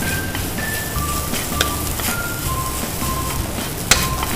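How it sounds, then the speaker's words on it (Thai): Rice tossed with chili paste in a hot pan sizzles continuously at close range, with soft stirring scrapes and an occasional light clink of a utensil against the pan. "ตอนนี้เชฟผัดข้าวนะคะคลุกเคล้าให้เข้ากันกับน้ำพริกเลยนะคะ"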